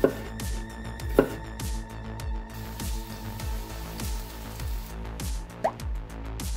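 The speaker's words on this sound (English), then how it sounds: "Meanwhile, cut the carrots into slices and fry them." Carrots being sliced on a cutting board, a run of regular, close knife chops, some sharper strikes among softer ones, with a faint wet drip-like texture and no talk.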